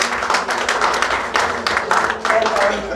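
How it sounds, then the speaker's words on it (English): Audience applause at an award ceremony honoring bridge builders, dense clapping that swells and dips in uneven waves, with talk mixed in. "Let's give him a big round of applause."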